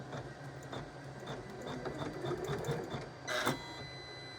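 An embroidery sewing machine stitches an in-the-hoop appliqué table runner, giving a steady, close, rapid mechanical whirring with a rhythmic tapping pulse, briefly rising louder near the end.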